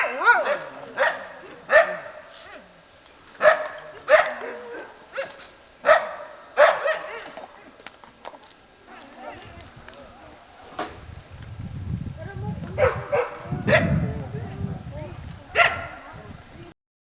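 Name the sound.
sled dogs barking at Fort Resolution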